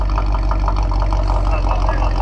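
A small remote-control car engine idles steadily with a buzzing, even hum throughout, close and fairly loud.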